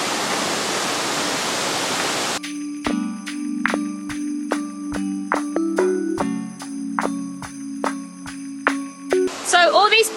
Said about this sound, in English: we've come to the Pa Sua waterfalls